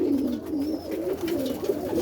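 Boston roller pigeons coo close by just after being let out, a soft, continuous run of low throaty coos.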